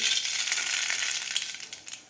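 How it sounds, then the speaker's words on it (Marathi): Half a spoon of mustard seeds crackles in two spoons of hot oil in a kadhai: a dense, close sizzling hiss scattered with small pops that thin out toward the end. "मोहरे आपली व्यवस्थित तडतडलेली आहे"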